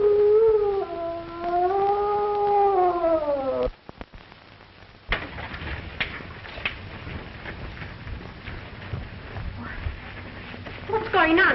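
A dog's long, wavering howl rises and falls for a few seconds as a radio drama effect, then cuts off abruptly before muffled voices and room noise take over.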